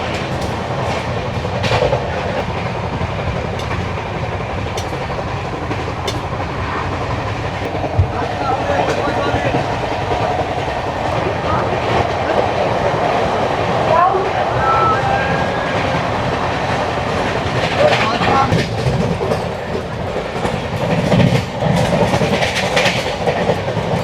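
The Coromandel Express from Kolkata to Vizag rumbles steadily along the tracks with rhythmic clickety-clack and a continuous loud roar heard from inside the carriage, faint wheel squeals and occasional voices underneath.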